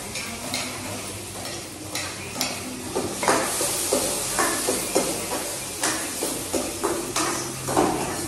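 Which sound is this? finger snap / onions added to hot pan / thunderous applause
onions added to hot pan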